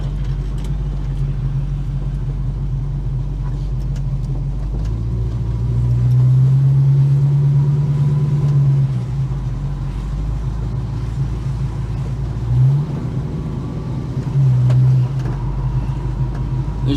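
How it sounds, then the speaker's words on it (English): A Holden HK car on the road with a worn, noisy automatic transmission: a loud, steady engine and road rumble with a droning whine that rises and falls as the car shifts and accelerates, up close with no talking. "This auto is starting to sound very noisy."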